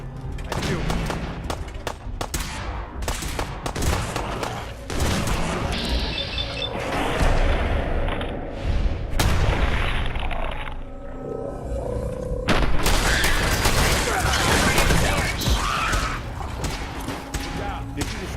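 A grenade explodes amid a firefight in the game Fallout 4, with heavy booms, crashes and bursts of gunshots layered densely throughout, while voices speak over the combat.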